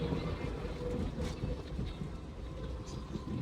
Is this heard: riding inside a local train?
yes